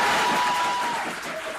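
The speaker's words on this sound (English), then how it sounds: "the gallery bursting into applause when the death penalty was announced" A courtroom gallery at the International Crimes Tribunal in Dhaka breaks into applause after a death sentence verdict, a steady wash of clapping from a crowd heard at moderate distance, fading slightly toward the end.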